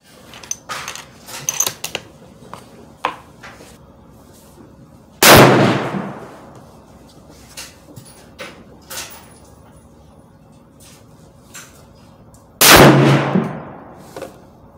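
A Savage Axis II XP .308 hunting rifle fires at a shooting range, with two loud, sharp reports several seconds apart, each followed by a ringing tail, amid quieter clicks and handling noises.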